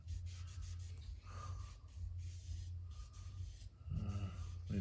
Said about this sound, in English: I, you know, do a bit of sanding here